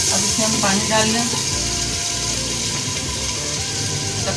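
Water poured over meat searing in a hot pan while cooking tinday gosht, a dense steady sizzle and hiss that stays loud and close throughout, with a faint low rumble underneath.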